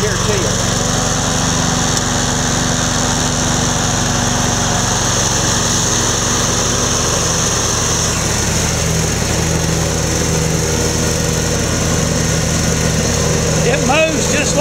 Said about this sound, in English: This here's the John Deere L110 automatic tractor. It's a mower. That thing runs real good.